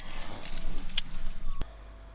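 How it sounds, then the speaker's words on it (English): A set of keys jangling close by for about a second and a half, a busy metallic rattle that ends with a soft thud, outdoors on a foggy morning. "So, where are my keys?"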